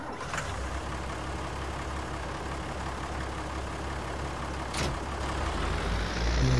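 A small tractor in Farming Simulator 19 on Xbox rumbles steadily as it drives, a continuous low engine drone with two brief sharp hissing bursts along the way.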